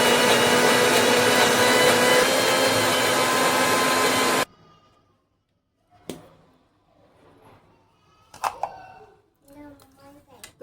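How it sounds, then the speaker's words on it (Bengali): Raw rice being ground with a little water in a kitchen grinder: a loud, steady whirring for about four seconds that cuts off abruptly, followed by quiet clinks and handling sounds as a voice speaks. "তো এখানে এবারে আমি অল্প অল্প জল দিয়ে এটা বেটে নেব"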